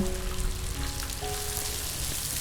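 Onions, green chillies and curry leaves frying in hot oil for girmit, a steady close sizzle with crackling spatter and no voices.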